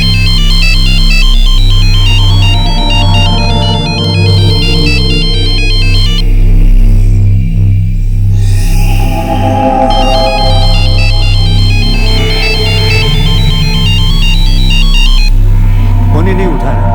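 An unanswered phone rings on and on with a loud, repeating electronic ringtone over a steady low hum.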